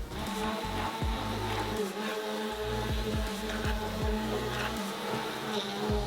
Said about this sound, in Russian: воспользуемся погружным блендером